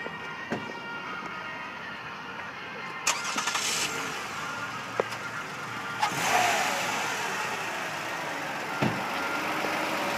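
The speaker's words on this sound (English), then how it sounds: "pop the hood and start the motor so you can hear this baby run" A 2012 Toyota Highlander engine cranks and catches with the hood open, then settles into a steady idle with a few small clicks and knocks, heard up close and without talking.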